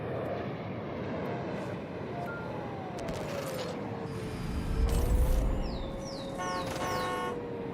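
A jet aircraft in the Battlefield 6 video game, a sustained engine drone with a gliding tone across the whole stretch, swelling louder near the middle, with scattered mechanical clanks and short beeping alert tones, no speech.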